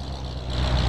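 An unloaded truck in a farming simulation game brakes over a steady, close, low engine rumble that grows slightly louder toward the end.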